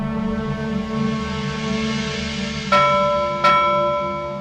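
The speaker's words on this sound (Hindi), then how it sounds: "मैं कहती हूँ बंद कर घंटी बजाना" A bell rings twice in sharp, ringing strikes that hang and decay, loud and close, over a steady low hum in an indoor drama scene.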